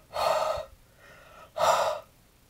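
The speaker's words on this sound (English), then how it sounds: "So the easiest way to do it is by breathing on it." Two breathy exhalations are blown onto an ink stamp, close and soft, separated by a short pause with a quiet breath between them.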